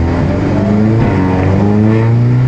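A Volkswagen Golf TCR race car with a DSG gearbox pulls out of the pits, its engine loud and close, climbing steadily in pitch under acceleration with no talk.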